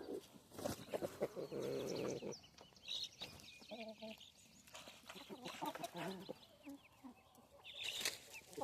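A Delaware chicken clucks and calls in a coop among young birds, bursts of close fowl sounds with a person's voice in between.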